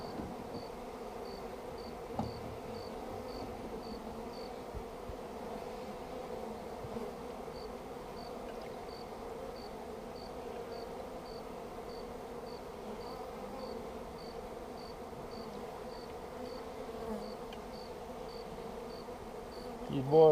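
Honeybees buzz while being hived in April, a soft, steady low hum that runs throughout, with faint repeated high chirps over it at times.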